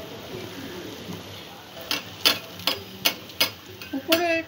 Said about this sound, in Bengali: একইভাবে অন্য মালপোয়াগুলো আমি ভেজে নেব।